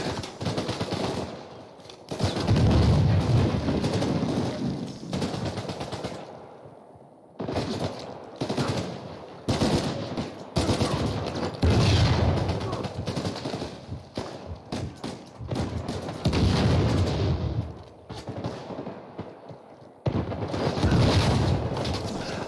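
Video game gunfire from Uncharted 4 comes in repeated loud bursts of rapid automatic shots with booms and impacts, separated by short pauses, and continues for about twenty seconds.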